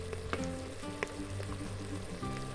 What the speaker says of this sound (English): just saute the onions a little bit until they're soft for about 2 minutes.